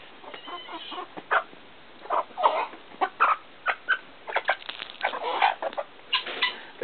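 Chickens on a rural property in Minas Gerais, Brazil, cluck in short, close bursts, repeated irregularly throughout with quiet gaps between calls.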